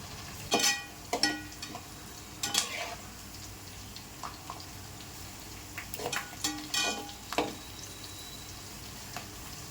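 Curry leaves drop into a pan of pepper chicken gravy with onions and tomatoes and sizzle and crackle in short bursts, with occasional stirring and clinks of utensils against the pan.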